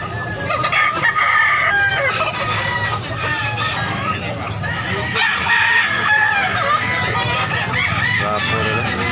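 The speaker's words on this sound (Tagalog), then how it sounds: "Dagang manok idol. Dagang manok nindot." Roosters crowing and clucking at a poultry market in Tabunok, Cebu, loud and continuous with overlapping birds close by, over a busy crowd with people talking.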